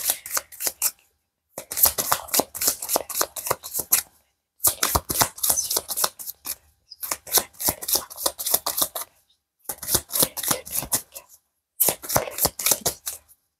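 Tarot cards shuffled by hand in five bursts of quick, crisp riffling flutter, close and fairly loud, separated by brief silent pauses, with no voices.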